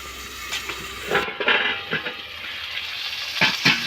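Onion and tomato with salt frying in a covered pan, a soft steady sizzle with a few brief clinks and stirring scrapes near the mic, no talking.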